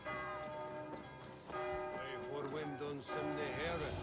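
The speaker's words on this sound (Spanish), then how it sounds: "cuando hay un asesino se escuchan las campanas" Church bells in Assassin's Creed Valhalla ring out with sustained, overlapping tolling tones, swelling in waves over a low background, with a voice briefly audible underneath.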